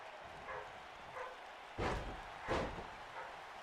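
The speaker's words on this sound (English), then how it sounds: "My dog going nuts." A dog barks excitedly indoors, two or three sharp, faint-to-moderate barks spaced about half a second to a second apart against a quiet room background.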